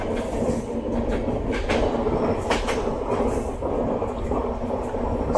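Steady rolling rumble of the 20691 Antyodaya Express, an Indian passenger train on the Trichy to Nagercoil run, heard from the unreserved coach with constant wheel-on-rail noise and faint clickety-clack, loud and continuous throughout.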